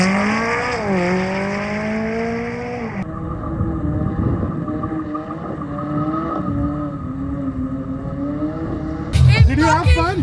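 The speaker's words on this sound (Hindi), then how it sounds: "हर मोड़ पे ड्रिफ्ट हो रही है गाड़ी।" A car drifting through a series of turns, engine revving up and down in long sweeping pitches with tire squeal, loud and close, ending in a sharp burst of noise; a voice talks over the engine.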